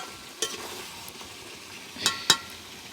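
Chicken with new potatoes being stirred and fried for chicken kosha, with a soft sizzle under a few sharp scrapes and clinks of a utensil against the pan.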